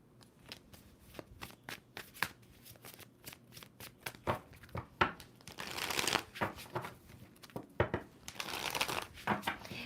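A tarot card deck is shuffled repeatedly up close, with crisp riffling bursts and soft slaps between them, and no talking.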